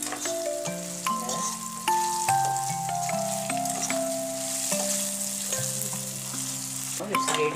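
Raw banana pieces sizzle and fry steadily in a pan, with a constant crackling hiss close up under a tonal background melody and no speech.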